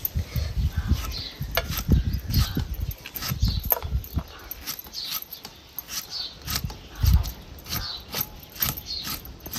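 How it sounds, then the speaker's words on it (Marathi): A knife finely chopping a tomato on a board for a village-style cucumber bhaji: a steady run of sharp, close taps with short pauses between bursts and no voices. "आता हे टमाटर सुद्धा आपल्याला बारीक चिरून घ्यायचं।"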